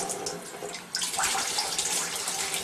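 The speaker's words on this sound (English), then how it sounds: "Turn on your cold water," Cold water from a kitchen tap runs over natural hog casings being rinsed of preserving salt, a soft trickle that swells into a louder, steady splashing stream after about a second.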